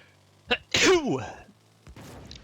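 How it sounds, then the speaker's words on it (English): A single loud sneeze after a short sharp intake of breath, close to the listener, followed by a brief pause and quiet rustling. "Sneeze warning."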